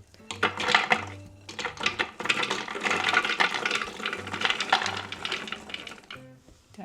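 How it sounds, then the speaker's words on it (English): Walnuts tipped into a food processor bowl, a dense rattling cascade of nuts clattering against the bowl for several seconds, close and fairly loud, tapering off at the end. "So I tip these all into my food processor bowl."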